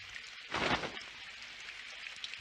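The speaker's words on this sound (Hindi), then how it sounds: "काश ये बारिश जल्दी से रुक जाए" Steady rain pours in an animated cartoon scene, a continuous hiss with a louder swell near the start, with no talking.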